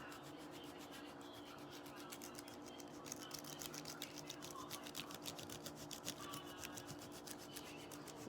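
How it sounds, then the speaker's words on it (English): Parmesan cheese grated over biscuit dough: a steady, faint rasp of rhythmic scraping strokes that grows quicker and more distinct partway through, with no talking. "I'm going to grate some Parmesan onto this."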